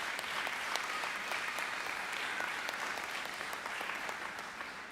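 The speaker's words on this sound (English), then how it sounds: "Graduates, can we give a round of applause for those who are here to support you?" An audience at a high school and adult education graduation ceremony claps steadily in a broad, dense wash of applause that holds at an even level throughout, with no cheering or talk standing out.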